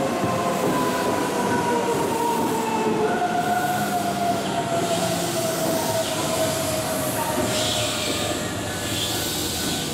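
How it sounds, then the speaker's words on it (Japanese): A Keihan electric train rolls into a station platform, a steady loud rumble of wheels and carriages with a rising hiss and faint squeal as it draws near and passes close by. "電車が到着します。 ご注意ください。"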